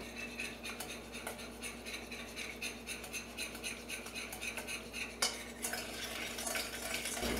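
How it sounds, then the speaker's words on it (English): Butter and lemon juice for gluten-free lemon sandwich cookie filling are mixed together in a bowl, with steady rhythmic stirring and scraping and a brief clack near the end, quiet and close. "And mix this together till it's really combined."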